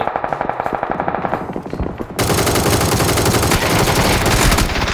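Automatic weapons rattle in rapid bursts during a PUBG match, close and loud, first in sharp separate volleys and then in a dense, continuous roar of gunfire.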